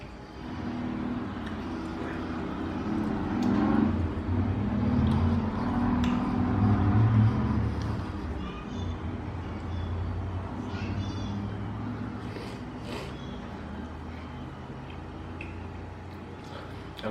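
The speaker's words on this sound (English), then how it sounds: "I'm not even sure if you guys can hear traffic in the background." A steady low rumble of highway traffic runs continuously near a house, moderately loud and unbroken throughout, with occasional faint higher noises over it.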